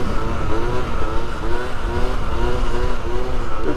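Steady engine drone from a motorcycle on the move, with harmonic tones that rise and fall gently as the rider holds speed, plus constant wind rush across the whole stretch.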